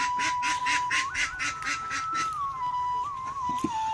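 Ducklings at a duck farm and hatchery quack in a dense, steady chorus of short, repeated calls, close and fairly loud throughout, with a sustained whistle-like tone running underneath.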